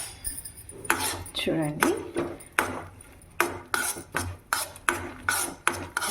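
A spoon stirs cashews and other nuts frying in ghee in a metal pan for payasam, giving a steady series of close, regular scraping clinks roughly every half second, with a brief voice in between.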